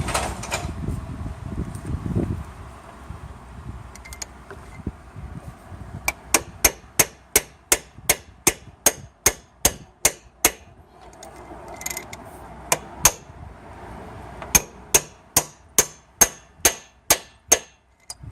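Metal hammer blows strike a driver seating an engine core plug in a steady rhythm, about two dozen sharp ringing hits in two runs separated by a short pause.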